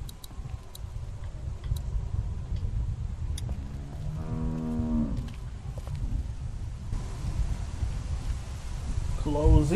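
A cow moos once in The Walking Dead Telltale video game, a drawn-out low call of about a second rising over background ambience and nearby game dialogue.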